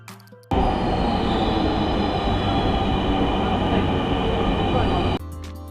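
A Dhaka metro rail train rolls past loud and close, a sudden dense rumble that holds steady for several seconds before cutting off abruptly into quieter ambience.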